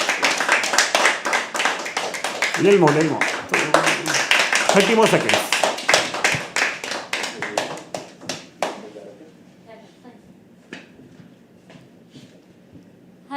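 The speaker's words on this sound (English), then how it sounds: "Keep clapping till she comes on stage." An audience claps steadily at a live poetry open mic, dense and loud for several seconds before thinning out into scattered claps, while a person speaks over it.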